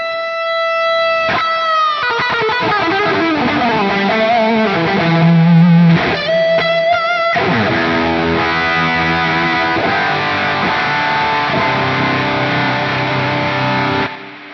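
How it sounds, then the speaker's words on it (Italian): Electric guitar played through a booster into a Quad Cortex with the gain raised, distorted sustained chords and notes ringing for most of the stretch, with background hiss and no talking. "se adesso gli metto sempre il mio booster, gli do più gain o più volume e abbasso qua, ovviamente sentirete il fruscio."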